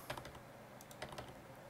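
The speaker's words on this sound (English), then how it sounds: "Hit shift twice on your keyboard." Two keypresses on a computer keyboard, taps of the shift key struck twice in quick succession with a short gap between them, close and fairly quiet against a faint room background.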